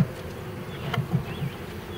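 Steady buzzing of gentle barnyard honey bees close by during hive installation, a low droning hum with no talking.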